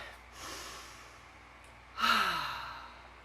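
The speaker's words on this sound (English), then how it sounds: "So take a deep breath." A person taking a deep breath: a soft inhale followed by a louder, longer sighing exhale, close and quiet with no speech.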